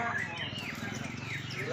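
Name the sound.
murai batu (white-rumped shama) bird song at contest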